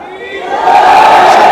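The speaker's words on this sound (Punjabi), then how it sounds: "ਭਗਵਾਨ ਦੇ ਜਿਹੜੇ ਜੈਕਾਰੇ ਨੇ ਉਹ ਵੀ ਲੱਗ ਰਹੇ ਨੇ" A crowd of devotees raising jaikara chants for Lord Krishna at a Janmashtami gathering, a loud massed shout that swells and holds, close and dense.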